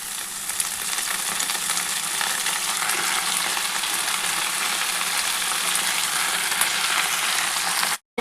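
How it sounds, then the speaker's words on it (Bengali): Kalmi greens go into hot oil where garlic, panch phoron and green chillies are frying, giving a loud, steady, close sizzle that runs unbroken for about eight seconds before cutting off abruptly. "এবার আমি কলমি শাকগুলো দিয়ে দিচ্ছি"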